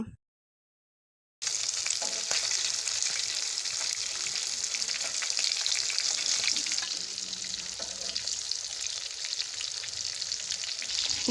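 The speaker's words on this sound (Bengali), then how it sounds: "আস্তে আস্তে করে আমি অল্প আঁচে ভেজে নিয়েছি" Hilsa fish frying slowly over low heat in a pan, a dense, continuous bright sizzle and crackle that starts abruptly after a brief silence and holds steady and close throughout, with no voices.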